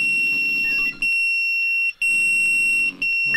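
An alarm in the firefighting strategy game Emergency 4 with the Wegberg mod: a loud, shrill high-pitched electronic tone blaring in steady one-second pulses with brief gaps, over a low rumbling background.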